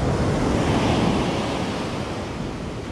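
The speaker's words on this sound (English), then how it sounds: "Tide is coming back in" Ocean surf washing in as the tide returns on a beach, a steady, broad roar of waves with wind buffeting the microphone, loud and continuous throughout with no voices.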